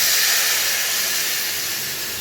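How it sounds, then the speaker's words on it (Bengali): Water poured into spice paste frying in oil for a chital fish curry sets off a loud, steady steam hiss and spitting that carries on evenly, easing off slightly toward the end, with no voices. "এবার মশলাটা একটু ভাজা ভাজা হতে হতে আমি জলটা দিয়ে দেবো।"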